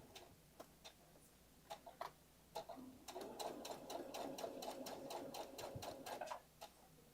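A sewing machine stitches a dress, starting with a few isolated clicks and short bursts, then running steadily for a few seconds with a rapid mechanical rhythm, close up and alone.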